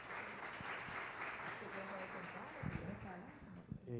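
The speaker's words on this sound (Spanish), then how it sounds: "Un aplauso," Applause from an audience fills the space, steady clapping throughout while a person speaks over it.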